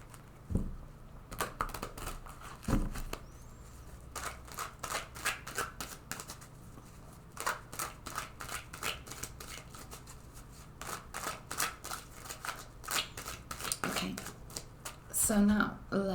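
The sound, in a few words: shuffling a tarot card deck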